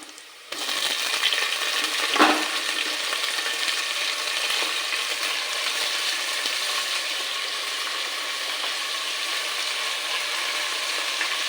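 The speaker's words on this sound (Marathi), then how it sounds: "आता आपण मटण टाकूया त्याच्यात." Mutton pieces frying with well-browned onions in a pan, a steady close sizzle running throughout with one brief louder clatter of stirring near the start.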